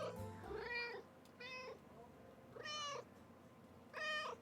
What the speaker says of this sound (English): Cappy kind of sounds like a cat.